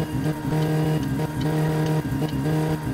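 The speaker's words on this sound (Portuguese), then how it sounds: "Agora eu vou acelerar pra ultrapassagem, hein?" Engine of the Satsuma car in My Summer Car accelerating steadily to overtake, a loud continuous droning hum with slight gear-like dips, no talk.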